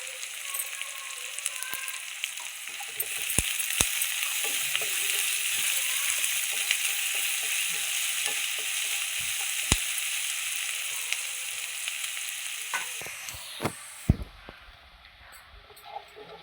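Onions sautéing with salt in a pan for pepper chicken fry give a steady, close sizzle with occasional stirring clicks, easing off near the end.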